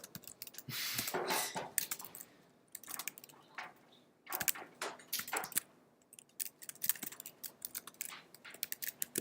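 Typing on a new computer keyboard, with irregular bursts of clattering keystrokes and short pauses, close and fairly quiet, no talking.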